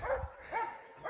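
A Trobojac Posavac hound gives a few short, faint barks and yips in quick succession, heard from some distance outdoors.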